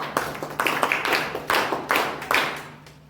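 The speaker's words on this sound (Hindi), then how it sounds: "सभी लोग जोरदार ताली बजाकर स्वागत करें।" Audience at a weekly discussion gathering claps to welcome a speaker onto the stage, a handful of close, loud claps in an uneven rhythm that fade out at the end.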